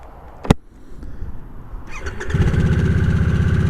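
A Harley-Davidson Nightster motorcycle: a sharp click, then the starter whirs and the engine catches into a steady, loud, close idle rumble.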